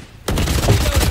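Gunfire in Valorant, a sudden loud burst of rapid shots that cuts in after a quiet moment and keeps rattling close and dense to the end.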